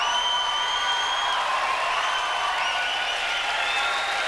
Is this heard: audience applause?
yes